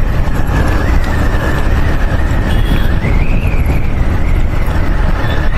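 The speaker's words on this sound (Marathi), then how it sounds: "हवेचा जो आवाज आहे" Steady, loud wind roar buffets a rider on a fast motorcycle along a main road in rainy weather, a broad continuous rush with a faint whining tone drifting through it and no talk.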